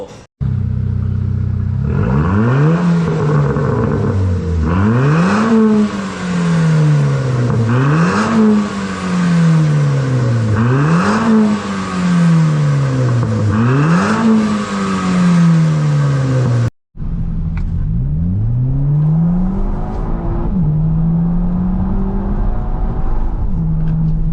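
An Audi TT fitted with a Euro Arts exhaust, set A, revs repeatedly, each blip rising sharply and falling back in a rhythmic series, then a brief cut and more revving near the car, loud and alone.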